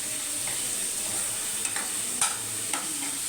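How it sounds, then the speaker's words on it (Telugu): Ginger-garlic paste and salt stirred in a hot pan for egg bhurji: a continuous soft frying hiss with a few sharp scraping taps of a spoon against the pan, close and without talk. "మొత్తం ఓవరాల్గా ఒకసారి కలుపుకోవాలి"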